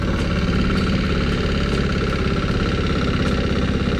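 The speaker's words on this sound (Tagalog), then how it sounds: "Tapos ang andar ng motor hindi naman gaano kalakas." A motorcycle engine runs steadily at a moderate, not very loud level, with a continuous low idling throb and faint rhythmic ticking throughout, close by with no voices.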